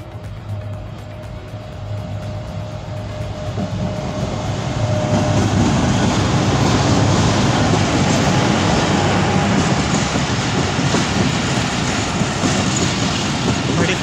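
A Pak Business Express passenger train led by a GE U40 diesel locomotive rolls slowly past a railway station in Pakistan, a steady rumble with wheel noise that grows louder after the first few seconds and stays close and sustained.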